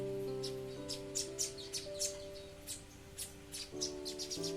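Repeated house sparrow chirps as it comes to feed its chick, close and bright, sounding in short bursts over a steady low hum.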